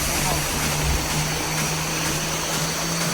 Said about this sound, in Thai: มาเที่ยวน้ำตกครับ